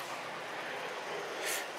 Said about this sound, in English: now we got a train going by in the distance